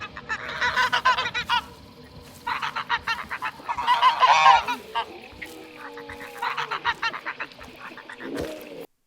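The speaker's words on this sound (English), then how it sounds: "Now, it feels like there could be geese in the bio." Processed goose honks made as sound design for the video game Hunt: Showdown, thickened with delay, reverb, distortion and compression; several clustered bursts of loud nasal honking repeat across the clip with short quiet gaps between them.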